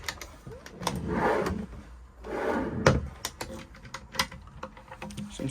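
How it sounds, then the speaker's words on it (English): A cutlery drawer in an Elddis Majestic 155 caravan slides open and shut, giving two soft rolling rumbles followed by a string of light clicks and knocks, close and quiet. "Cutlery drawer."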